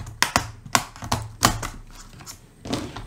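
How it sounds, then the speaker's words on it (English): A flat metal pry tool works under the bottom edge of a Lenovo Chromebook Yoga laptop keyboard, giving a series of sharp plastic clicks and snaps at an irregular rhythm, close and fairly loud, with no talking. "we're gonna take our flat metal pry tool. We're gonna go at the bottom and gently pry it up."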